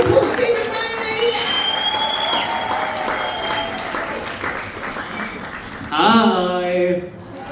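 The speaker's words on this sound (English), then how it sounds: "start the clapping on this side" A comedy club audience applauds and cheers to welcome comedian Stephen Bailey onto the stage, a sustained roar of clapping with whoops that swells near the end as he arrives.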